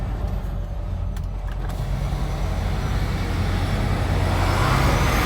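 A dense traffic jam rumbles on a New York street, with heavy engines idling and droning nearby and a steady low growl that swells slightly toward the end.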